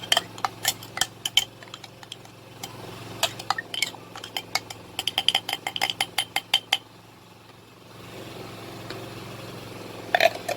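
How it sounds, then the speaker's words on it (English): A spoon stirring a ginger, garlic and onion mix, quick bursts of close metallic clinks and scrapes in an uneven rhythm, pausing briefly before a final few taps. "So then I'm gonna mix it with my spoon."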